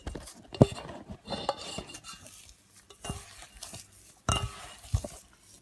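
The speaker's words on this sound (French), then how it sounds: "Je mélange, il faut bien mélanger." Sablé biscuit dough gets stirred with milk in a bowl: quiet scraping and a few sharp clinks of utensil against the dish, close and intermittent, with no speech.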